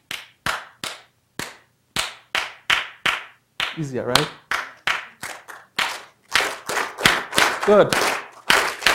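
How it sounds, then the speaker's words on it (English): A simple hand-clapping rhythm repeats as short, sharp claps in a steady pattern, demonstrating African rhythm, with a brief spoken remark over it. "then there was a clap pattern,"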